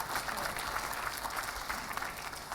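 An audience at a corporate presentation breaks into applause, a faint and distant wash of many hands clapping that holds steady for a few seconds.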